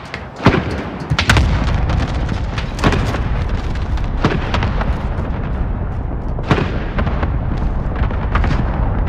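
Repeated heavy explosions from an airstrike in a video game, dense booms and blasts rolling one after another over a constant loud rumble, with sharp impacts standing out near the start and middle.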